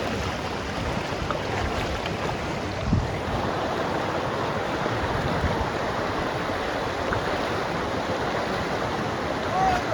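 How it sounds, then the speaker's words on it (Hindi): Fast-flowing floodwater rushing across a road gives a loud, steady roar and wash heard close by, with wind buffeting the microphone and a brief thump partway through. "तो पानी तो बहुत तेज़ी है गाइस, लेकिन संभल के पार होना है।"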